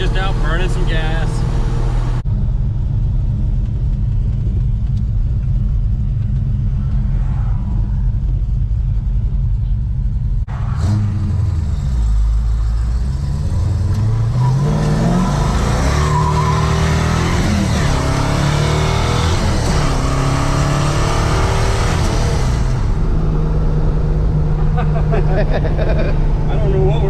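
A 1968 Oldsmobile 442 V8 pulls through the gears from inside the car, its steady rumble rising and falling with revs and shifts, loud and close, with people talking over it at times.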